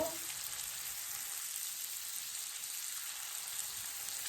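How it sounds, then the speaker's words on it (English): Shrimp cooking in butter in a pan give off a soft, steady sizzle heard up close, with a faint clatter at the very start as they are flipped. "Flip the shrimp over"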